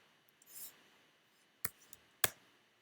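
Two sharp key presses on a computer keyboard while entering a Hive shell command, with faint softer taps between them in a quiet room.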